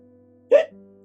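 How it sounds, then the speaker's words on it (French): A single abrupt hiccup sounds out loud and close, a short voiced gulp over a faint steady musical hum in a children's storytelling piece. "il a un terrible hoquet."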